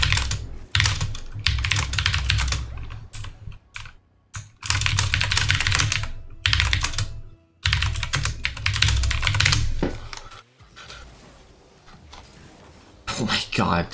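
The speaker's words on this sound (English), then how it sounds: "Oh yeah, my keyboard is kinda loud." A loud computer keyboard rattles in fast bursts of clattering keystrokes, broken by short pauses, while a gamer plays Rocket League, with a voice talking during parts of it.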